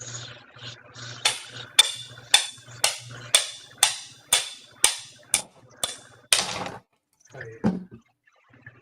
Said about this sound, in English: I've chipped lots of rocks open like this before